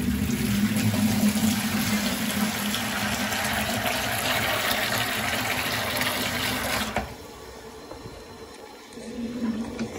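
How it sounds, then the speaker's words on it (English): Cold water rushing through the purged zone piping of a home heating boiler, a steady loud flowing hiss that drops off sharply near the end and then partly resumes. "So now cold water is going through those zones."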